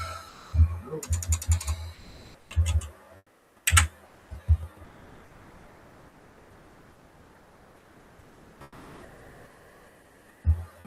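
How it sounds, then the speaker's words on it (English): Close computer-keyboard typing comes in short clustered bursts of clicks, then a long quiet stretch of faint background hiss before a single final keystroke. "let's just type it"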